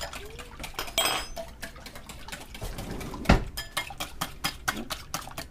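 A spoon clinks and scrapes against a mixing bowl while fishing a bit of eggshell out of a fried chicken batter mix, with quiet irregular taps and one sharp knock midway; near and fairly soft.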